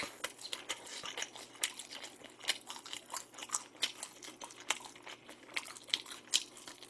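Crunchy bites into glazed and seasoned Pelicana fried chicken, close-up chewing and crisp crackles repeating in an uneven rhythm, fairly quiet with no talking.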